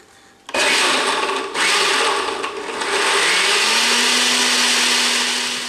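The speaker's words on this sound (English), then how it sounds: "I'm going to blend all of these ingredients together" A blender runs loud and steady, whirring through quinoa loaf ingredients with tahini, roasted beetroot and rosemary; the motor kicks in after a brief quiet start, dips once, then settles into a constant roar with a rising hum.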